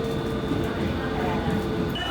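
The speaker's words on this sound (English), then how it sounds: "we're on the train. Just pulling away now." A train pulling away from a station in France gives a steady, loud rumble and hum of the carriage, a continuous even drone with a faint high whine above it.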